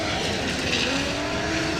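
Pro-Am drift car at the British Drift Championship qualifying at 3 Sisters circuit, engine held at a loud steady high-rev roar as the throttle is floored, continuous for the whole stretch with no talk.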